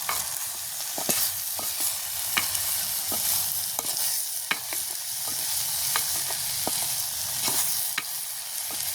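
Broad beans stirred with chilli powder and salt in a pan, giving continuous close scraping and soft sizzling with repeated sharp utensil clicks against the pan, no voices.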